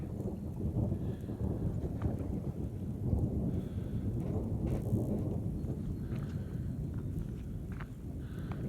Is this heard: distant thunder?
yes